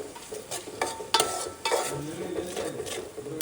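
Chopped green onions sautéing over green chillies in a pan for green pav bhaji, with steady sizzle under repeated spatula scrapes and clinks against the metal, fairly close.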